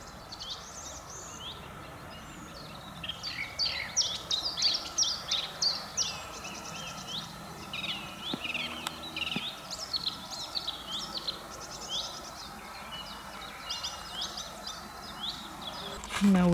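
Several birds sing and chirp in busy overlapping phrases beside a German railway line, moderately loud against a soft outdoor hum, with a brief clank near the middle.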